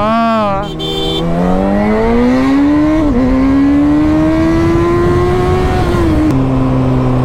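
A new Triumph Tiger motorcycle engine revs up hard and holds a high, rising whine for several seconds, loud and close, with a brief dip midway and a drop at the end.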